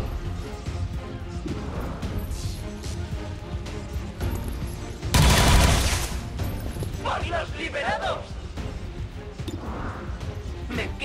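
Gunfire in the video game XCOM 2, a loud sharp burst of shots in the middle amid busy game effects and a background score, with someone talking over it.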